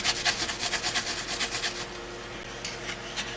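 A cloth wipes down a Phenom II X6 CPU processor during a PC build, quick rhythmic rubbing strokes close up in a steady run, then a pause and a few more strokes.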